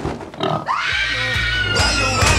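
A pig oinks and grunts in a film trailer set in Gaza, a close, loud, nasal squealing call carried over a short stretch, with voices briefly heard around it.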